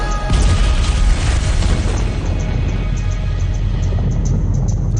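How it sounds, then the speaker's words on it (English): TNT charge detonated near a cliff, enough to level a ten-story building, roars as a loud, sustained rumbling blast that fills the whole stretch without pause, heavy in the low end. "Up there is where you're going to see it go boom."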